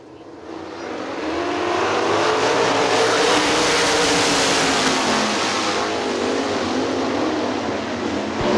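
Sprint cars roar around the Hartford Speedway Park dirt oval in a heat race, a loud dense engine howl that swells after the first second and holds steady as the pack circulates.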